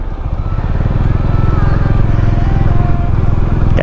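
A motorcycle engine runs steadily at close range while parking at a rest stop, a low, even rumble that holds throughout, with some faint background noise.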